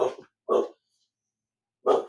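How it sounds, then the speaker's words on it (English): Indoors, a house dog gives three separate short barks, the first two close together and the third after a long pause, loud and near, with no other sound between. "I'm sorry that the dogs bark during my podcast."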